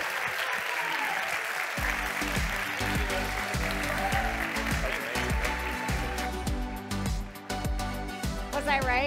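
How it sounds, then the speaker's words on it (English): A large audience at a community food event applauds steadily and loudly, with a sustained wash of clapping and a few scattered voices underneath, while music plays alongside. "give this man a round of applause"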